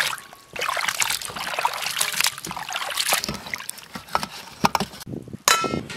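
Cut potato strips are swished and rinsed in a basin of water in a rural kitchen, giving close splashing, trickling and dribbling with a few light clangs against the bowl, continuous for several seconds.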